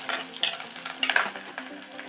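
Small shallots fry in hot oil for a Tamil fish gravy, crackling and sizzling while being stirred, with irregular scraping bursts close by.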